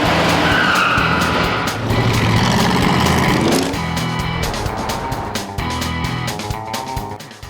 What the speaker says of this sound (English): These cars are wild and loud